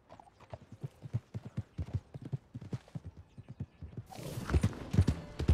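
Steady clip-clop of horse hooves trotting at an even pace in the video game Red Dead Redemption 2, followed near the end by a louder, rougher burst of noise.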